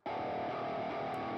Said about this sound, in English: the song starts off with like this lo-fi guitar part